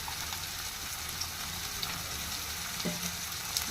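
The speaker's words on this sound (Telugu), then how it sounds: "వేగుతూ ఉంటాయి, మనం మూత పెట్టుకొని ఒక 2 నిమిషాలు." Dried peas fry in a pan for a brinjal and pea curry, giving a steady, close crackling sizzle with scattered small pops throughout and no voices.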